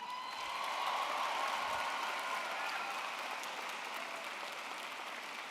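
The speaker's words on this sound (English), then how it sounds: "Give yourselves a round of applause." Graduating students at a university commencement ceremony applaud in a sustained, dense burst of clapping that swells then slowly tapers, filling a large hall.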